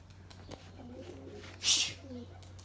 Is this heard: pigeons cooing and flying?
yes